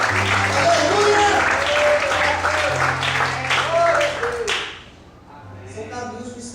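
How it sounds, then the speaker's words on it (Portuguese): A church congregation applauds during a service, a dense, steady patter of many hands clapping for several seconds under sustained music and a voice, then fading into a quieter tail. "Se você também tem isso, aplaude o Senhor."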